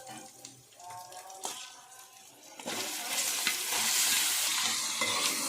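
Washed raw chicken stirred into a pan of frying onions, green chillies and ginger garlic paste; quiet scraping at first, then a strong steady sizzle swells up and holds.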